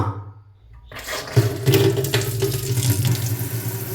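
Water gushes from a tap into a sink, starting abruptly after a second of near silence and then running as a steady, loud, close splashing flow.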